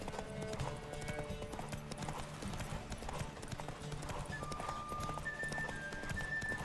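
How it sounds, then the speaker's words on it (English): Galloping horse hooves pound steadily through a horse race in The Witcher 3, a continuous rapid clip-clop under game music with faint tonal effects. "I'm gonna lose this race. I'm terrible at horse racing."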